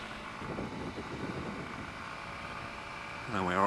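A Lexmoto Riot 125cc motorcycle runs at about 8,000 RPM and 52 mph in fourth gear, a steady buzzing engine drone mixed with wind rush, while a rider talks over it.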